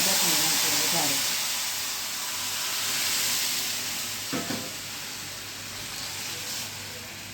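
Garlic chutney hitting a hot tempering of cumin, dried red chillies and curry leaves for urad dal, giving a steady loud sizzle and hiss with a brief sharp crackle partway through, alone without talk.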